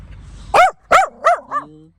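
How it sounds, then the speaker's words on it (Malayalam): A dog on a street in South Africa barks four times in quick succession, loud and close, with the final bark shorter and more whining; no one talks. "പട്ടിയെ കണ്ടു."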